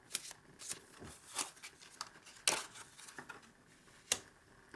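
Tarot cards being shuffled and drawn, giving soft papery flicks and snaps scattered irregularly across a quiet background, a few sharper card slaps standing out, with no talk.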